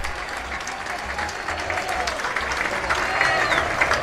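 A football stadium crowd at Arsenio Erico applauds after a Nacional win, broad sustained clapping and crowd noise filling the space, steady and moderately loud throughout with a slight swell near the end.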